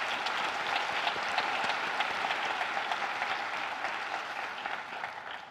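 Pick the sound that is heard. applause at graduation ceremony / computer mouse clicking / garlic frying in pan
applause at graduation ceremony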